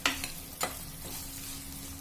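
Onions and tomato frying in a pan for a Kerala fish curry, a steady soft sizzle with a couple of sharp stirring scrapes near the start, fairly quiet and close.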